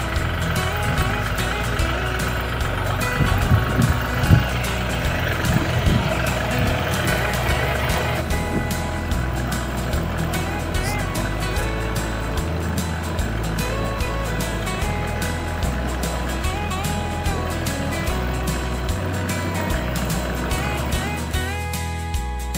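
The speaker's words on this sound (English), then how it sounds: "When we're done with the barrel, we move it with a tractor like this." A tractor runs and rumbles steadily as it moves a barrel of maple syrup, engine noise continuous and fairly near with some clanking.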